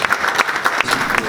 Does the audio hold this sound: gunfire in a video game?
no